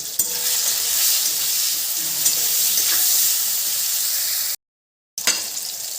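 Apple pieces fry with salt and turmeric, giving a loud, continuous hissing sizzle close up that cuts out briefly near the end and then resumes.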